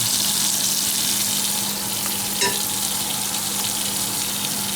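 Pancake batter poured into a hot frying pan for American-style pancakes sizzles with a continuous, even hiss, steady throughout apart from one brief click midway.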